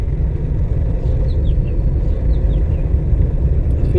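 A learner's car engine is revved on the accelerator, giving a steady low rumble with a slight rise, close and continuous over four seconds.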